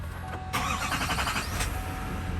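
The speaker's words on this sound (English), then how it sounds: "I'm going to go ahead and start the truck." A 2020 Duramax L5P diesel pickup truck cranks and starts, a brief starter whir followed by a loud, steady engine rumble with a short high burst near the end, with no talking.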